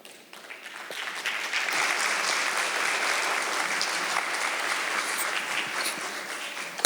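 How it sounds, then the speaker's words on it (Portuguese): Applause from a church congregation at a winter Sunday school gathering swells within the first second and holds as a dense, even wash of clapping, moderately loud, with no talking over it. "Eu ia pedir uma salva de palmas"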